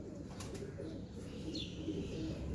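Teddy pigeons coo softly and continuously, low, murmuring calls close by against a quiet background.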